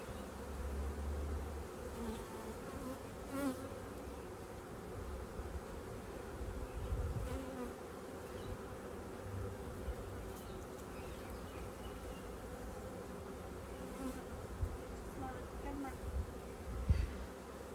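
Steady, continuous buzzing of many honey bees close by around an open top-bar hive, with occasional louder passes as individual bees fly near, and soft low rumbles underneath.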